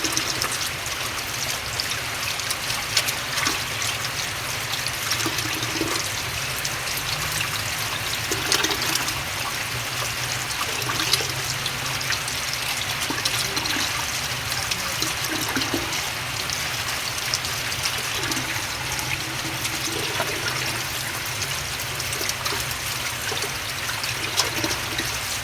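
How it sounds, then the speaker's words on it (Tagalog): Tap water runs steadily into a sink while raw chicken is rinsed for fried chicken, a constant close splashing rush with faint handling clunks underneath, and no one speaks. "banlawan natin mabuti,"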